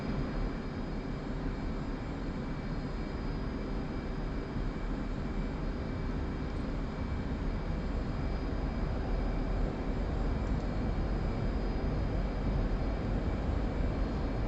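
An F/A-18C jet engine roars steadily during takeoff in a flight simulator game, a loud, dense, unbroken rumble with a faint whine on top that holds for the whole stretch.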